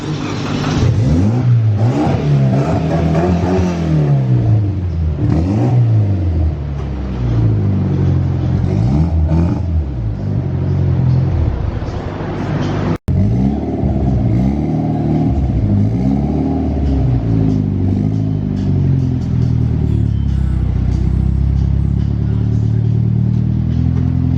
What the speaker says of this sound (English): Gonna fire up the Evo 10.